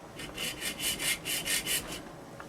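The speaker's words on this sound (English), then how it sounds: "Just mount it in the bench vise. I'll start cutting through it." A hand saw cuts through a workpiece clamped in a bench vise, with about eight steady back-and-forth strokes in an even rhythm, close by and moderately loud.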